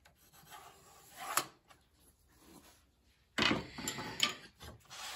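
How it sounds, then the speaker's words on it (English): A marking gauge or knife scribing a cut line on a wooden workpiece, short close raspy scratching strokes, two distinct bursts separated by quiet. "what I'm going to do is actually scribe the cut on the opposite side of the piece"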